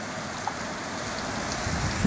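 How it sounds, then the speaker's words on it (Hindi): Heavy monsoon rain in Guwahati pours steadily in a constant dense hiss with fine drop patter, uninterrupted for the whole stretch and without any voices. "खतरनाक वाला बारिश में शुरुआत हो जाए यहाँ से गुवाहाटी से ही"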